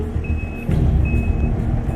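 A fuel-recovery truck backs down a muddy road, its reversing alarm giving two long steady beeps over a loud, rumbling diesel engine, with no talk.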